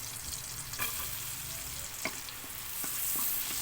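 Garlic sizzles and fries steadily in a pan of oil and margarine, a continuous close crackle with occasional sharper pops and stirring scrapes, no voices.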